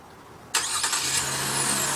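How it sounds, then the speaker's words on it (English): A 2015 Chevrolet Colorado pickup's 3.6-litre V6 engine, started remotely, turns over and catches at once, then settles into a steady low idle. No one speaks. "But here's how you do the remote engine start."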